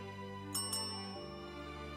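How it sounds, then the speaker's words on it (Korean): Two quick bright bell dings strike close together over a sustained musical drone, ringing out with a short fading tail. "안창호에게 의문의 종소리와 함께 반가운 소리가 들려옵니다"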